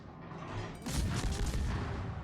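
Naval guns on a destroyer in World of Warships boom in a dense run of blasts that begin near the one-second mark, heavy and close, with continuous low rumble behind them.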